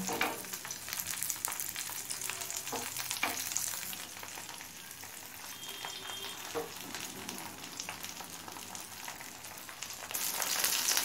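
Hilsa fish wrapped in taro leaves and coated with mustard-poppy seed paste sizzles in a pan, a steady close frying hiss with scattered crackles and pops that grows a little louder near the end.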